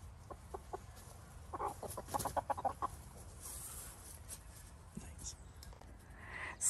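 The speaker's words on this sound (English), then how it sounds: "And then there's my rooster." A backyard rooster near a garden gives a run of soft, quick clucks in a cluster, with faint bird calls and quiet background noise around it.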